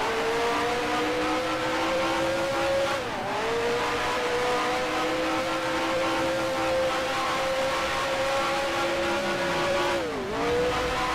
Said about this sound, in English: you are missing the noise of the engines here